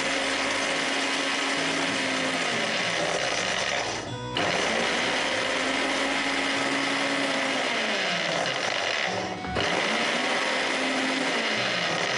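A kitchen mixer grinder runs steadily, pulverising spices with curry leaves, salt and asafoetida for mullu murungai vada, a loud continuous whir with two brief dips where the motor pauses.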